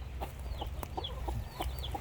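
A hen brooding goose eggs gives a series of short, soft clucks close by in a quiet farm setting, spaced in an uneven rhythm.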